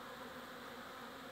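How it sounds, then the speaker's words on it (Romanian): Honeybees carrying early hazel pollen fly past with a continuous, faint buzzing hum that holds steady throughout. "este albină cu polen, aduc de la alun"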